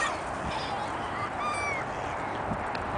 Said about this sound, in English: All these birds are the seagulls and the ducks.